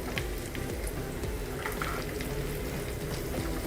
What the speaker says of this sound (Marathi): त्यात तीळ घालायचे आणि थोडासा हिंग घालायचा, पाव चमचा हिंग घालायचा